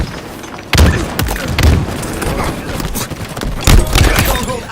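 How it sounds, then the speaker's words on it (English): Several deep booms from a grenade in a Halo multiplayer match, one arriving near the start and another toward the end, each a loud thud with a crackling tail amid steady battle noise. "Grenade out."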